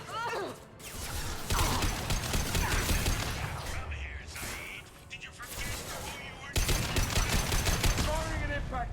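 Weapon fire in Mass Effect 2 combat, bursts of shots with mechanical clatter over a dense game soundscape, while voices talk over the action.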